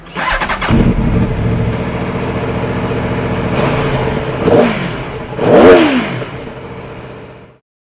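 A 2018 Aprilia Tuono V4 1100 RR Factory motorcycle's V4 engine fires up and idles with a steady mid-pitched rumble, then revs sharply twice before cutting off.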